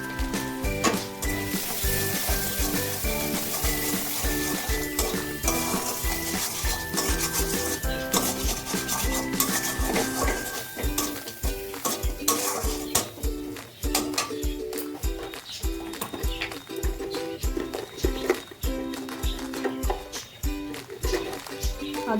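Spices, with salt, turmeric and green chilli paste, fry and get stirred in a pan for a prawn dish, giving a steady close sizzle with repeated scraping strokes under background music.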